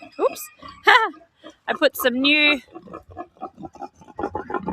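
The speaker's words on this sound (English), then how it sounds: "I'm going to say good morning to the piggies." Pigs grunt and squeal in short bursts at close range on a farm, mixed with a person talking.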